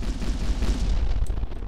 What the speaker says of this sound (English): I think someone's either attacking me or I'm running into my own explosions.